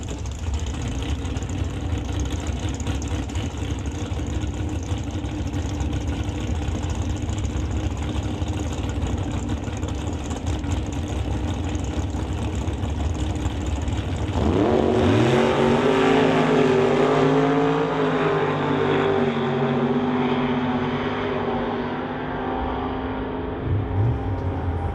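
A 2005 Cavalier drag race car rumbles on the drag strip, idling roughly before its engine surges into a loud, rising launch with distinct gear-like pitch sweeps, close and powerful.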